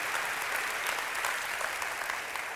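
A church congregation applauds during a sermon, a thick, continuous crowd clapping that stays loud and steady throughout with no speech over it.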